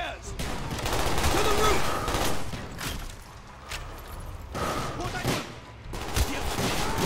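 Gunfire in the Call of Duty: Black Ops campaign breaks out in heavy, chaotic volleys mixed with explosive booms and battle noise, loud throughout with a faint voice now and then.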